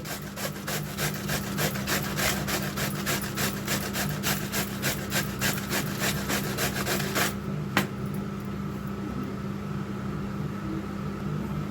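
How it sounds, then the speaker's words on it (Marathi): Cabbage being finely grated by hand for jowar flour thalipeeth, a fast rhythmic rasping scrape that repeats steadily for about seven seconds, then a single knock and a quieter steady hum. "आपला आता कोबी किसून झालेला आहे बघा किती छान पैकी एकदम बारीक एकदम छान असा कोबी किसून घेतलेला आहे"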